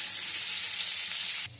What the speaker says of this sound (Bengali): নুন আর হলুদ দিয়ে আলুটা আমি একটু ভেজে নেব।